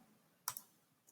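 A computer mouse clicks twice in quick succession, close and fairly quiet, with a fainter single click about half a second later in an otherwise quiet room.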